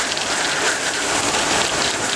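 Heavy rain and wind from a squall line storm in southwest Wisconsin make a dense, steady, close hiss that never lets up, with no voices.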